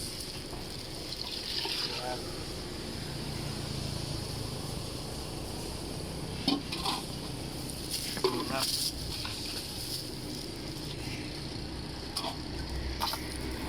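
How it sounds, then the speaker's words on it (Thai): Water splashing and trickling while a plastic bucket used for fresh-squeezed sugarcane juice is rinsed and scrubbed, a steady wet wash with a few louder knocks and sloshes, and a voice faintly in the background. "นี่นะผมจะมาล้างถังอีกรอบหนึ่งนะครับ"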